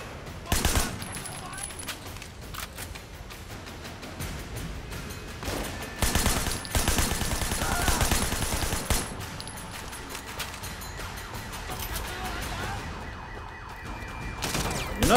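Shotgun and assault rifle gunfire in the open-world game Sleeping Dogs, with an SMG also in the mix: near-continuous bursts of shots and crackling impacts that swell and ease over a dense, busy background of game sound.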